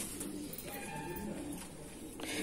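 Soft, low cooing from Madrasi pigeons held for sale, steady and fairly quiet against a constant background hum, with no talking.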